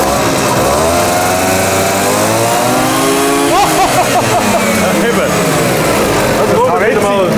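A historic moped engine on a test stand revs hard at full throttle, a loud buzzing two-stroke drone with rising and falling pitch sweeps, with people talking over it.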